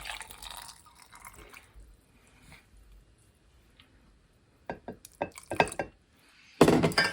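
Fire cider poured into a jar of pickled burdock root, with faint trickling early on, then glassy clinks and a louder splashing burst near the end, close by and without speech.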